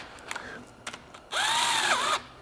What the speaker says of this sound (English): we'll tighten these 2, or these 4, I should say, not 2, these 8mm head 6x10 bolts